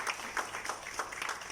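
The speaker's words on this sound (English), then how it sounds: "Give her a massive round of applause." Audience applause at a live event at the Capital Club in Dubai, a steady wash of many hands clapping at moderate volume with no talking over it.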